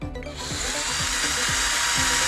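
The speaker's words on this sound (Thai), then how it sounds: "เราจะเจาะตรงนี้นะครับ" A power drill bores a hole through the PVC grip of a homemade spring-recoil gun, a steady whirring drone with regular rhythmic catches as the bit bites into the plastic.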